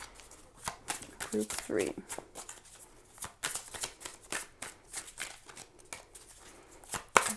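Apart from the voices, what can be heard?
shuffling tarot cards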